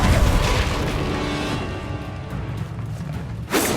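A Confringo fire spell going off in Hogwarts Legacy, a loud, heavy boom that rolls and fades over a few seconds, then a sharp burst near the end, with no talking.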